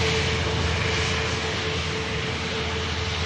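A TUI Dreamliner jet taxis at Manchester Airport with a steady, broad engine roar and a faint high whine that holds constant at a moderate distance, and no one talking.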